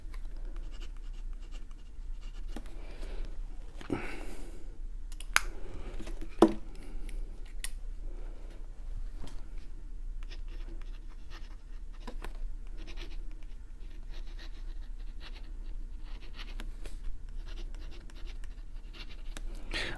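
A Parker IM fountain pen with a scratchy nib writes on paper, giving a steady soft scratching under faint background hiss. Occasional louder ticks and strokes stand out. It is close, quiet and without talk.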